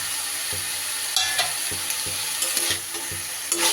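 Fried eggplant stirred into sautéed bathua greens in a pan, soft sizzling under repeated scraping and tossing strokes at an uneven rhythm.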